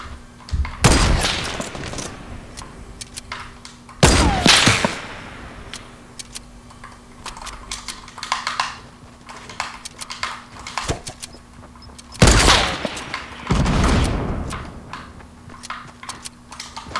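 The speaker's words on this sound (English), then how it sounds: "Silence pistol?" Silenced pistol fire in Fortnite comes as a few clusters of quick, muffled, thudding shots. Short bursts are separated by quiet gaps, with scattered lighter clicks and footsteps between them.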